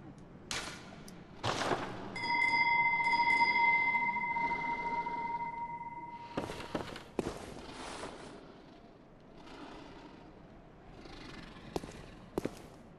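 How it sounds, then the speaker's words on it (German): Bell ringing in the video game Bloodborne: a sustained metallic tone chimes and rings out for several seconds amid sharp in-game impacts and clatter, with quieter hits and footsteps afterward. "Vielleicht sollten wir einfach mal unsere Glocke läuten."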